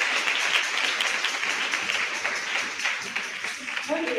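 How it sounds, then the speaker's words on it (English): A church congregation at Sunday Mass claps steadily as a visitor comes forward, a dense, even patter close by, with a voice emerging faintly at the very end. "Clap for him as he"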